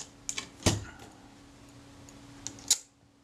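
A Rolleiflex Automat TLR camera shutter being opened on the bench during servicing, heard as a few sharp mechanical clicks, one loud snap early on and another near the end, with no talking.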